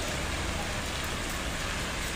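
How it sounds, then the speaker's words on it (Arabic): Rain pours in the Hay Mohammadi neighborhood of Ksar el Kebir, making a dense, loud, unbroken roar of falling water close by. "تشوفوا أمطار الخير بالبركة."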